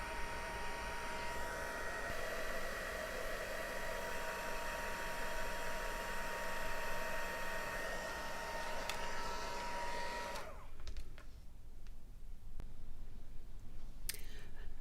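A handheld heat tool blows a steady, loud whooshing hum as it heats dimensional puff paste on a handmade card, running continuously for about ten seconds before cutting off, leaving near-quiet with a few faint clicks.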